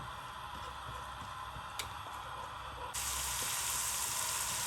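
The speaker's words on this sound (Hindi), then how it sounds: "इसमें डालते हैं लहसुन चॉप किया हुआ, और इसको करते हैं हम थोड़ा सा सौते।" Chopped garlic sautéing in a pan, a steady close sizzle with faint ticks and scrapes, growing suddenly louder and brighter partway through.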